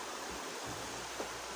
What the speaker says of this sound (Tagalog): Yun, ang ilog. Masyado nang mataas.